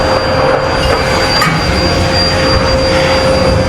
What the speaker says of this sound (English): make sure the vacuum doesn't cut the audio